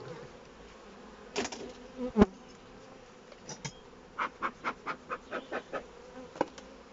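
Honey bees buzz faintly around a hive, with a quiet background hum broken by a series of short, rhythmic buzzing bursts close by.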